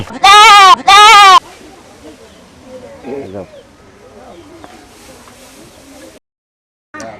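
Two loud, close goat bleats in quick succession at a rural Bangladeshi homestead, followed by quieter background sounds and faint voices.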